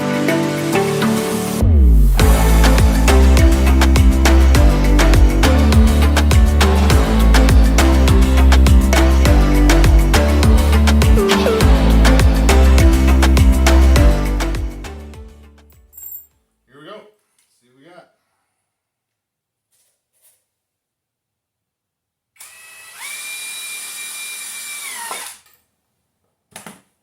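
DeWalt DCF887 quarter-inch impact driver hammering screws in for about thirteen seconds, loud rapid rattling impacts, then short bursts and a final run after a pause.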